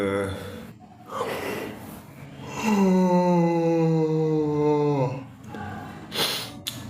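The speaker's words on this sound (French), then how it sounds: "je baille beaucoup parce que je suis épuisé." A man gives a long, drawn-out yawn with a rising then falling voiced tone lasting a couple of seconds, close and loud, with breathy inhales and exhales before and after.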